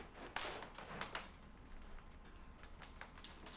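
Pounding on a door in the horror movie Insidious, a loud thump followed by several fainter, irregular taps and knocks spread across a few seconds, with little else around them.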